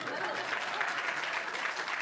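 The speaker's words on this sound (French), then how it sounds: "Applaudissez, merde." An audience claps together in a continuous patter of applause, steady and moderately loud, with no single claps standing out.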